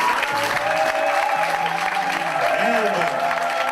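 A church congregation applauding a pastor: a dense, steady wash of clapping from a crowd, with voices calling out over it throughout.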